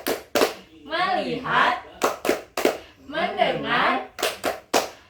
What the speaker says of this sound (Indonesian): Bapak ada tepuk fokus biar kalian itu tidak ngantuk